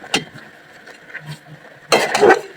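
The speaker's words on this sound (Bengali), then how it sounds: "ঢাকনা দিয়ে ঢেকে দেবো।" A metal lid set over a pot of cooking moringa greens, a brief clink at the start, then a louder clattering rattle near the end as it settles.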